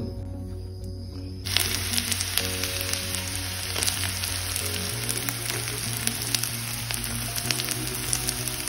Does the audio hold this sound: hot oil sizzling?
yes